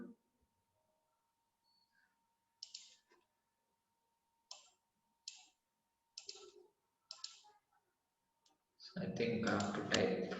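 Several separate clicks from a computer keyboard sound as a few short isolated taps, spaced well apart in quiet surroundings. A voice comes in at the end.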